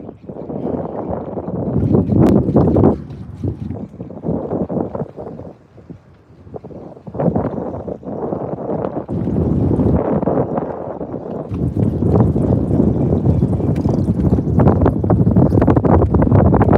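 Wind gusting across the water while bass fishing from a boat, loud and buffeting in waves with brief lulls, rising to a steady, continuous roar in the closing seconds.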